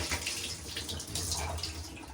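Running water pours steadily over Fluval canister filter parts during a quick rinse, a continuous close splashing hiss like a tap into a sink, with no speech.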